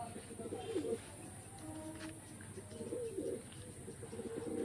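Soft, repeated cooing of Madrasi pigeons in a loft in Kolkata, low throaty phrases returning in rhythmic bursts, quiet and close with faint background voices.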